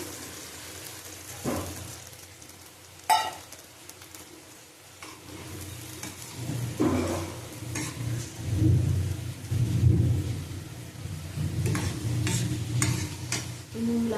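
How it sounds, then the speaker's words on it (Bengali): Water poured into a pan of simmering raw banana kofta curry, a steady sizzling, bubbling wash that swells loudly midway and keeps churning, with a few sharp clinks of a spoon or pot along the way. "জল দিলাম পরিমাণ মতো"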